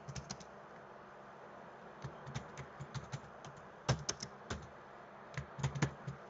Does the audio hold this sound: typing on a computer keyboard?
yes